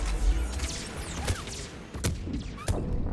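Gunfire in the sci-fi shooter Mass Effect 3, with scattered sharp shots and thuds, a few loud cracks standing out over a busy battle din, no talk.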